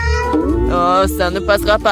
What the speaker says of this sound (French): Ah ouais, c'est un chat.